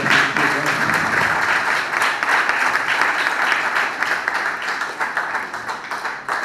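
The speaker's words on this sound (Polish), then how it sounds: "Brawa dla spichlerza" An audience at a cultural event in Wejherowo applauds in loud, sustained clapping that thins slightly toward the end.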